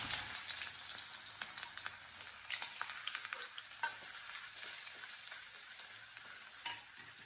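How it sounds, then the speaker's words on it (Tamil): Steady crackling sizzle of onions frying in a hot pan, with occasional stirring clicks, close and continuous throughout. "பொடியாக நறுக்கி வச்ச வெங்காயத்தை சேர்த்துக்கலாம்."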